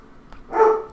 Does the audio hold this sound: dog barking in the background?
yes